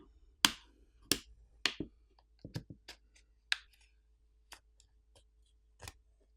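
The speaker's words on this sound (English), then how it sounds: "A plastic pry tool can now be placed in between the back housing and the frame of the screen and ran along the edges to pop off the" A plastic pry tool works around the back housing of a Samsung Galaxy A05s phone, giving about a dozen sharp, close plastic snaps and clicks at irregular intervals, loud at first and then softer, with near silence between them.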